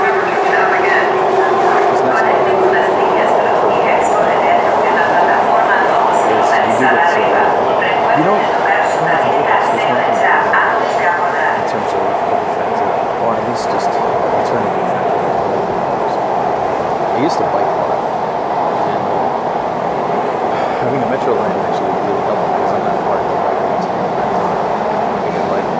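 Los Angeles Metro subway train riding underground, a loud steady rumble and roar of the moving car throughout, with voices and announcements heard over the noise.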